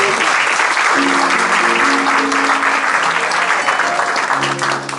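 Loud, sustained applause from a church congregation at an evening service, dense clapping filling the whole stretch with faint tonal music or voices underneath.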